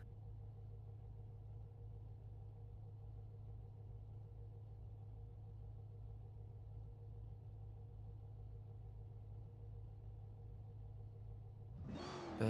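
A BMW E46 M3 straight-six engine in a sim racing drift game at Okayama drones in a steady, even low hum with layered harmonics for most of the clip, then breaks into a sudden loud burst right at the end.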